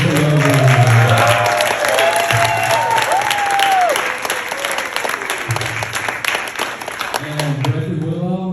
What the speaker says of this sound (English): let's kick this off with a big round of applause for Karen and Big B for raising a wonderful young woman.